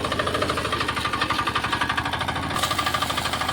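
Kirloskar power weeder engine running under trees on a farm, a steady, loud, close mechanical chug with a rapid knocking pulse throughout, alone with no talk.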